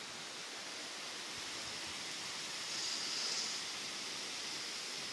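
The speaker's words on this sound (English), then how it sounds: "it has the state's highest waterfall." Florida's highest waterfall at Falling Waters State Park in Chipley, a steady, even rush of falling water heard close and continuously with no voices.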